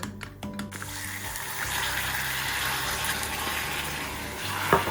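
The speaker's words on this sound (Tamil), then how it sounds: "இப்போ இந்த டைமில் இதுக்குள்ளே நான் ஒரு அரை கிளாஸ் அளவு தண்ணி விட போகிறேன்." About half a glass of water poured into melting sugar for semolina toffee, a continuous close hiss and gush that starts after a brief clatter and runs steadily to the end.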